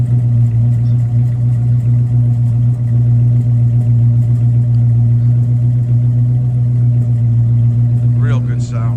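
A classic muscle car's engine idles close by with a steady, deep low-pitched drone that barely varies, and a faint brief chirping sound near the end.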